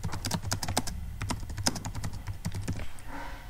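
Close, quick clatter of computer keyboard keys while someone types a product review on an eCommerce website, with bursts of irregular clicks and brief pauses.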